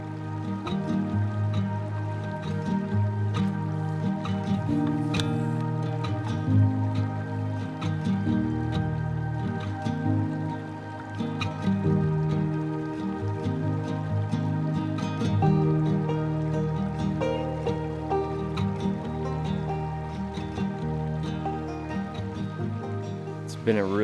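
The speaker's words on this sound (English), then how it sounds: "All I can hear is just the water running here, the little stream, or I guess the creek, and then birds." Small creek running steadily in Zion National Park, a continuous close babble of water with scattered drips and splashes throughout, under a dense layer of other sound.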